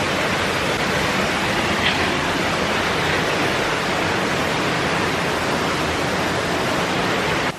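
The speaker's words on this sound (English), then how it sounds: "So we made it to the waterfall" A waterfall on a nature hike, a dense continuous roar of falling water, loud and unbroken from start to finish with no voices.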